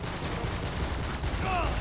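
Gunfire in the video game Uncharted 3, a dense burst of fusillade-like shots running steadily through the clip over a busy game soundscape, with no talk.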